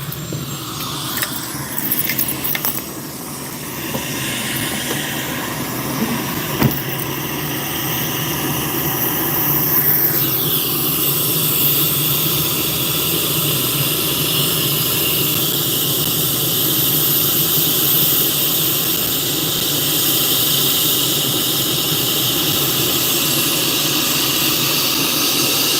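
A helicopter taking off, its engine giving a loud, steady turbine hiss and roar that swells and intensifies partway through, heard close by with no talk.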